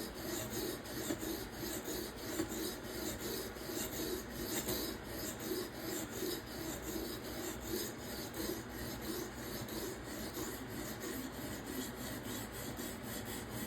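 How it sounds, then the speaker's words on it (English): A steel knife edge being sharpened, with a continuous gritty rasping as the blade is worked over and over, fairly quiet and steady throughout with no talking. "I expected this steel to be a little bit harder to sharpen, but we're already collecting a good sized burr"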